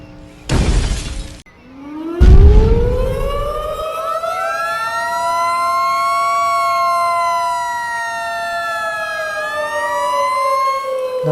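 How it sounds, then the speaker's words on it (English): Sirens wail over a protest at a power plant, rising and sweeping in long pitch glides after a couple of sharp bursts of noise at the start, loud and sustained to the end. "Don't worry about those sirens."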